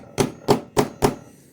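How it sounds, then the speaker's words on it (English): Five sharp metal thunks ring out at an even, deliberate pace as a hammer drives a notched, slotted spur gear onto a shaft during a pressure washer repair. The final blow is cut short. "Let's hammer it home."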